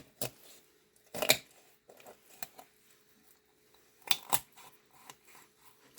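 Raw chicken bone being cut while butterflying a whole chicken, with a few sharp crunching snips heard up close, two louder cuts separated by quieter scraping and handling noises.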